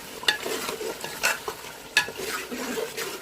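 Egg biryani masala with fresh coriander and mint is stirred in a pan over a soft sizzle, with a spoon scraping sharply about three times in an irregular rhythm, close and clear.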